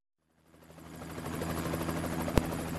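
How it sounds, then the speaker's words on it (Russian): A helicopter in the Minecraft video game whirs up from silence and holds a steady, fairly loud rotor drone, with one sharp click near the end and no talking. "Твою мать, Робин, ты за мной-то вертолет пришлешь, а?"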